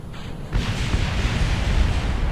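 Explosions in the space flight game Kerbal Space Program: a dense, rumbling blast that erupts abruptly after a quiet half second and stays loud and roaring to the end, with no talk over it.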